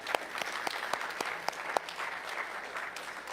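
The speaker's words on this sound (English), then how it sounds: "Give yourselves a round of applause." A church congregation claps for itself, with a brisk, fairly even round of applause with a few sharper individual claps standing out, heard from within the room.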